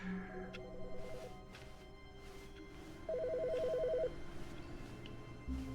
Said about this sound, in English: Oh no, it's another phone call.